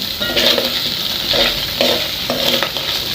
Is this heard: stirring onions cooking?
yes